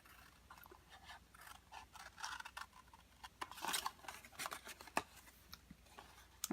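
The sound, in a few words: scissors cutting paper triangles at score line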